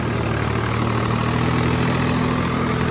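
A Swaraj 855 tractor engine, fitted with an 8-foot rotavator, idles with a steady low diesel rumble and constant drone, close by and unbroken, with no voices over it.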